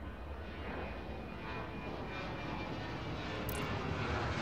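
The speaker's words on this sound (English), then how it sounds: "Usually these planes come in faster." Steady broadband jet roar of airliners coming in to land at an airport in a simulation game, a continuous engine drone with no voices over it.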